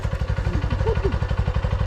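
A Honda CRF150L motorcycle engine putters loudly and close with a steady rapid thumping beat, as if idling or riding slowly on a village road, with brief faint voices in the background.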